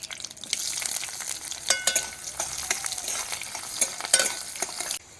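Chopped onion, whole green chillies, mustard seeds and panch phoron spices frying in mustard oil with dried chillies and bay leaf, a steady close sizzle with stirring scrapes and clinks, stopping abruptly near the end.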